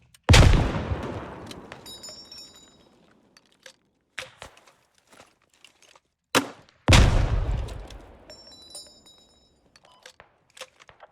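Suppressing gunfire in a military video game: two loud close bursts of rifle fire, each followed by a decaying rumble, with scattered fainter distant shots and clicks in between.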